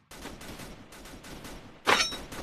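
Gunfire in the Free Fire video game comes in rapid bursts, a steady patter of shots with a louder, brighter blast near the end, heard alone with no talk.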